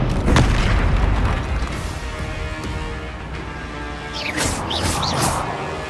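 Spell explosions from Bombarda and Confringo in the Hogwarts Legacy video game boom deeply in a rapid series over continuous combat effects, with sharp magical whooshes near the end.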